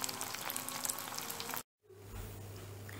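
Nems fry in a covered pan, giving a continuous, moderately soft sizzling hiss that drops out abruptly for a moment before resuming, with no talking.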